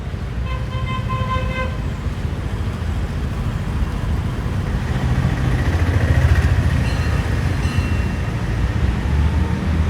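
A passenger boat on the Alappuzha to Kainakary backwater route arrives with a deep, steady engine rumble that swells toward the middle. A brief horn-like tone sounds near the start, and no one speaks.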